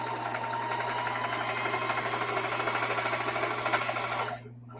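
A sewing machine runs fast and continuously, stitching strip-pieced quilt blocks from fabric scraps, with a steady pulsing whir up close and a low hum underneath, then stops abruptly near the end.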